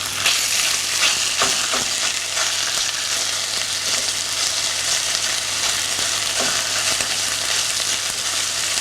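Egg fried rice sizzles steadily in a hot pan, a close, constant hiss of frying broken by a few light clicks and scrapes of stirring, with no talk.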